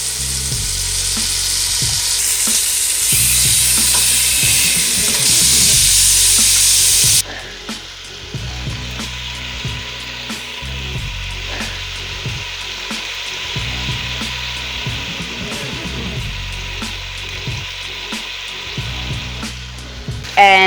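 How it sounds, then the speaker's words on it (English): Sugar-coated pork ribs sear and caramelize in a hot pan, a steady loud sizzle that drops to a quieter crackle partway through, with occasional spatters and soft scraping. "it's gonna take about 3 to 5 minutes on each side for them to brown or to caramelize because of the sugar that's on the ribs"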